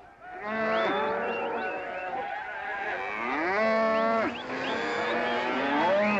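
Cattle moo loudly and repeatedly from the back of a vehicle, several long overlapping bellows close by with no talk over them.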